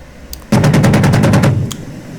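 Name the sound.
helicopter gun firing in DCS AH-64D Apache video game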